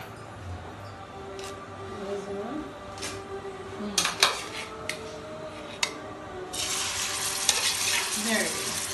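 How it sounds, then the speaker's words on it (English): Boiled soya chunks fry in hot oil in a pan, a steady sizzle that swells louder toward the end, with a few clinks of a spoon against the pan and a voice speaking over it. "you're gonna add the boiled soya chunks into it"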